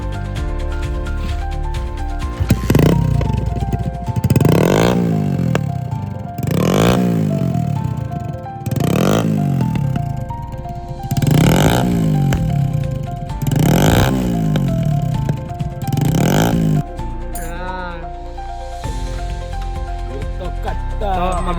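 Hero Splendor motorcycle with an 11-point exhaust, revved hard again and again, loud close blips rising and falling in a steady rhythm, with speech present.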